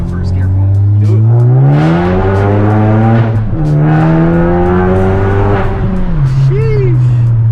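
A lowered Ford Focus ST or RS fitted with a catless downpipe accelerates hard in first gear, loud and close inside the cabin, its engine note climbing through a shift-like dip and rising again before backing off with a pop.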